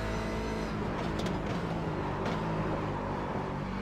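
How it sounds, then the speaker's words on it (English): In the iRacing sim at Watkins Glen, an IMSA race car's engine drones loud and constant, a dense roar with gravel rattling around underneath it. "You hear the gravel just rattling around the engines of the car there."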